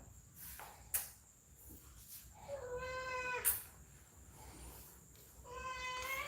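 A cat meows several times in drawn-out, tonal calls spaced across the stretch, fairly close and moderately loud, with a couple of sharp clicks and faint background hiss between the cries.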